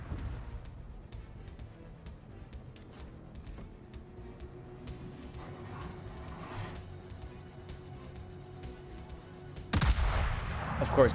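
Gunshots ring out in a video game, with a loud, sharp burst of fire arriving near the end after a stretch of low, steady in-game background noise.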